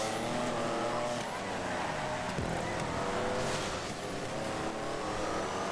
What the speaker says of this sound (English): Oh, someone's crashing on the petrol station.